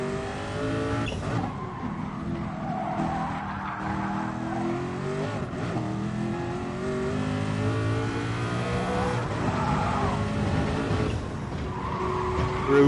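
Race car engine revving steadily with tyre squeal through corners on the Nordschleife in a racing video game, loud and continuous throughout.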